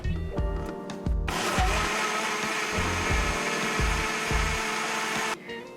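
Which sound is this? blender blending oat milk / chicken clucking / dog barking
blender blending oat milk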